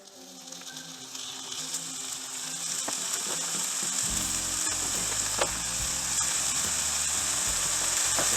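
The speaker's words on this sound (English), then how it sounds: "We're just going to throw some of this in the frying pan and see how it does." Homemade buckboard bacon fries in a hot skillet, the sizzle starting soft and swelling into a steady, loud crackling hiss with scattered pops as the fat heats, and no talking.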